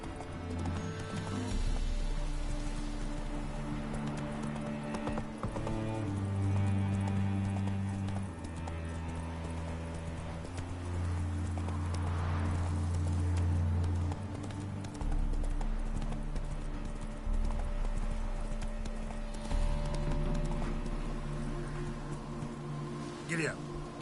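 Hooves of the horse Roach clip-clop in a rapid galloping rhythm in the video game The Witcher 3, running continuously under game music with occasional talk.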